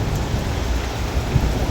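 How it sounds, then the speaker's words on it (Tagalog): Heavy rain on a Monday morning pours as a dense, steady hiss, with a low rumble of thunder running underneath throughout. "Yan, kulog kidlat."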